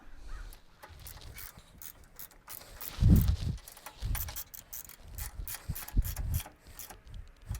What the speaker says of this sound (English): So we put them on and then tighten them. To tighten those two nuts is a 1/2 inch socket.